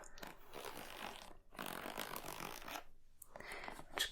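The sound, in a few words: zip of a pencil case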